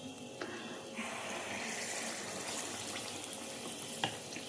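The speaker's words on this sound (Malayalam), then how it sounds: "അതിൽ ഓരോ സ്പൂണായിട്ട് നമുക്ക് എണ്ണയിലോട്ട് ഈസ് കോരി ഒഴിക്കാം." Spoonfuls of banana fritter batter go into hot oil, giving a steady, dense hiss of frying with a couple of small clinks of the spoon. There is no talk.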